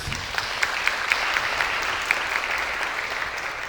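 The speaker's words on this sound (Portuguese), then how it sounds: "Então, uma salva de palmas aqui para a Laís." Audience applause for a speaker at the close of a Next.js 14 talk, a steady wash of many hands clapping at moderate level with a few sharper individual claps standing out, no voices over it.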